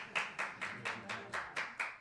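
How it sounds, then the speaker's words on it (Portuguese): A church congregation during a sermon claps in unison, a steady rhythm of about seven evenly spaced, fairly soft claps in two seconds. "Pode aplaudir"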